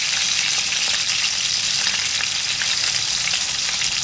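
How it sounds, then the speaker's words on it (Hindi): Minced meat kebabs fry in a pan with a loud, even sizzle and crackle of hot oil, close up and steady throughout without any voices. "कबाब मैंने फ्राई करने के लिए डाल दिए हैं"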